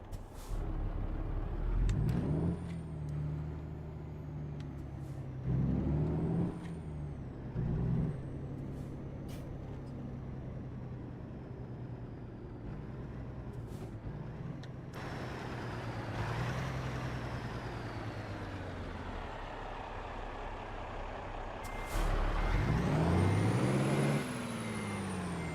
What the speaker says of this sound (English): Red trucks hauling red trucks.